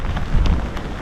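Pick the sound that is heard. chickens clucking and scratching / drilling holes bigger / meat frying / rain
rain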